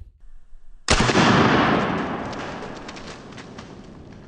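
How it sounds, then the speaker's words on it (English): A golf ball fired from a homemade cannon blasts into a watermelon, producing one sudden, loud, close crack and burst that rings out and slowly fades over several seconds. "it exploded the watermelon like a high-powered rifle would"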